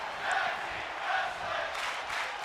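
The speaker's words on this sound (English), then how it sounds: "Tag team wrestling chants all across the crowd here tonight in our main event." A wrestling arena crowd in WWE 2K24 chants in a rhythmic, rising-and-falling pattern during a tag team main event, the massed voices sounding distant and swelling roughly every second.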